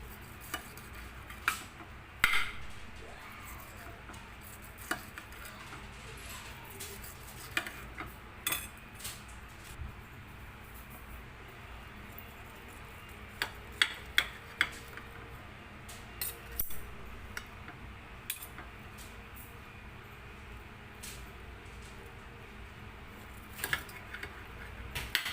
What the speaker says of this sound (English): We have to cut in this thin and size, so we could easily fry it.